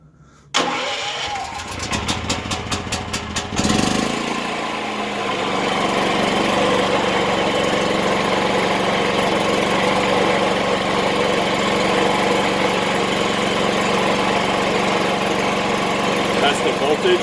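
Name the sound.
Predator Inverter 8750 generator running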